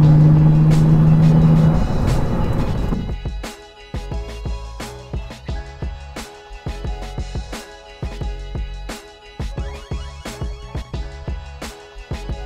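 A heavy Bentley GT from the inside: its engine swells into a deep, loud roar under throttle for a few seconds, then eases off to a quieter cabin hum broken by scattered clicks and light knocks.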